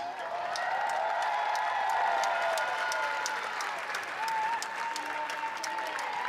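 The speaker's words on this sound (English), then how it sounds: "Let's give a round of applause for the championship game participants" Spectators at a college softball game between Virginia Tech and Florida State applaud the championship game participants, a distant, fairly quiet spread of clapping in a large outdoor space, with a sustained tonal murmur running beneath it.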